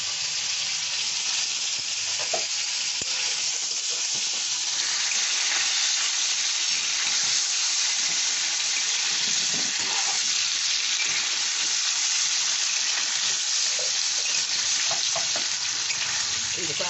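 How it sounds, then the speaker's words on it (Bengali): Paneer cubes fry lightly in white cooking oil with a constant, loud, close sizzle and occasional soft stirring taps against the pan. "পনির তো বেশি ভাজা যাবে না, হালকা করে একটু"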